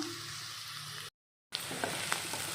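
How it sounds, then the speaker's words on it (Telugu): Onions frying in a pan for a baby corn curry, a steady close sizzle broken by a brief silence, then resuming with small pops and crackles. "ఆనియన్స్ ఈ విధంగా వేగినాయండి కొంచెం కలర్ చేంజ్ అయినాయి కదా"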